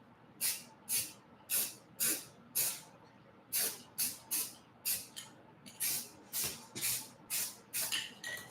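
Spray gun laying down a final glossy white coat on a car in a shop, a steady series of sharp, close hissing bursts, each roughly half a second long, repeated in quick rhythm.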